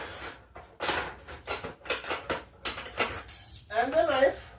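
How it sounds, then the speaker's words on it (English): Cutlery clinks and clatters as a spoon, fork and knife are picked up beside a plate of crock pot corned beef and cabbage, several short metallic taps in quick succession, close by, with a brief voice near the end. "Let me grab a spoon,"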